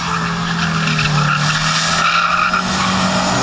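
Race car skidding sideways through a corner on a winter motorsport track, a sustained loud engine drone with a steady whining tone and tire hiss lasting the whole moment, no talk.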